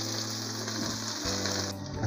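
Fresh spinach hits a hot pan for ginataang spinach with dilis, giving a steady, close hiss and crackle of frying that swells briefly near the end, with no talking.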